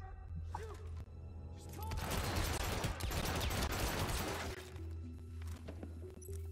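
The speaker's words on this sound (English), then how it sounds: "A shotgun!" Shotgun fire in the video game Hitman Absolution: a loud burst of dense blasts and crashing impacts swelling for a few seconds over a low steady hum, then fading back to quieter game noise.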